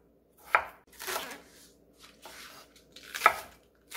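A knife chops a large potato on a cutting board, several separate crisp strikes with short pauses between them, close and clear, no talking.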